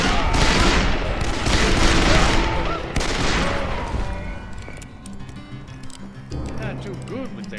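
Gunfire in the Western shooter Call of Juarez: Bound in Blood, a dense fusillade of rapid shots and booms that thins into scattered single reports, with voices talking over the fighting.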